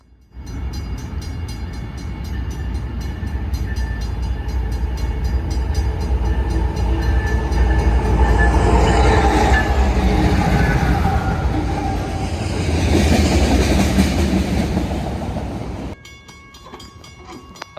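A Metra commuter train rolls past loudly at close range for most of the clip, with rumbling wheels and a horn tone running through it, before the noise drops off sharply near the end.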